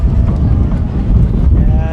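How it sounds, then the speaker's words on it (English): Strong gusting wind buffets the microphone at a high school football field at the base of the Wasatch Mountains, a loud continuous low rumble with no break. "it is windy over here at the base of the Wasatch Mountains"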